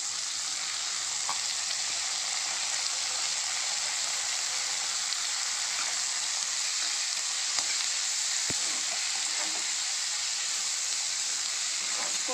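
Arai keerai greens sauté in a hot pan for a paruppu kulambu, a loud, steady hissing sizzle with light stirring sounds throughout and no voices.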